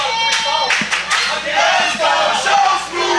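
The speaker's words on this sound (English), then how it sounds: "And the crowd getting behind Chris right now." A crowd at a live wrestling event cheers and yells in loud, overlapping bursts, with some scattered clapping mixed into the roar.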